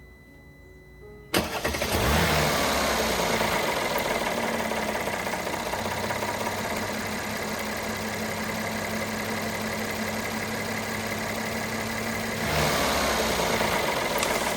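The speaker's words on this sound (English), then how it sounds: "Start the engine." Mercedes-Benz GLK 350 engine cranking and catching after a short quiet moment, then settling into a steady, loud close-up idle, with a slight rise in level near the end.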